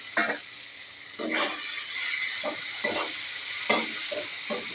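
Chopped tomatoes hit hot oil in a frying pan while semolina cooks, giving a steady sizzle broken by several short scraping stirs; close and moderately loud, with no talking.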